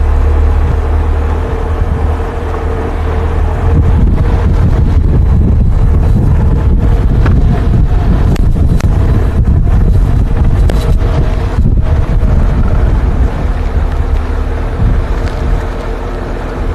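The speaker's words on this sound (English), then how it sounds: "Still a very strong gust at the moment." Strong wind gusts buffet the microphone on an outdoor safari drive, a loud, continuous rumbling roar that swells and eases throughout.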